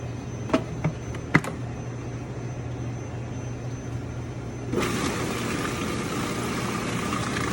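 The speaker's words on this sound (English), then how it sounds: "Start blending that." Blender switched on midway to blend basil, walnut, garlic and olive oil into pesto, a loud steady whirring roar that follows a few clicks and taps over a low kitchen hum.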